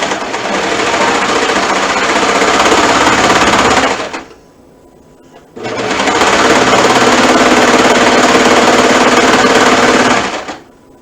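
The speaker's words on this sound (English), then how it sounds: "So, stitching away." A sewing machine stitches a lining seam in two long, loud, steady runs of a few seconds each, separated by a brief pause.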